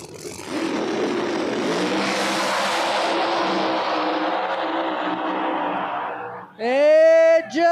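Drag racing cars roar at full throttle down a no-prep strip, a sustained loud engine wail for several seconds that fades, then a high swooping engine whine closes out.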